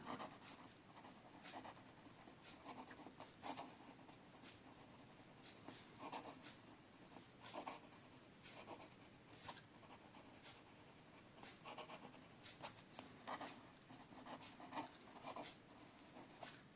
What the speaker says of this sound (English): Now some quick writing.